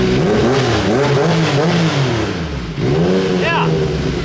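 A Yamaha YXZ side-by-side engine revs on the throttle, rising and falling in pitch through several loud, close sweeps, with a voice talking partly over it.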